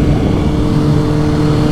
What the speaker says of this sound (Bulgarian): Поразкарам моторчето